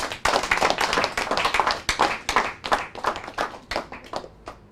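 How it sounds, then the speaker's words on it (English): A round of applause for a woman at a PR kick-off business event, close, crisp hand claps in uneven bursts, fairly loud and continuous before tapering off. "let's give her a round of applause"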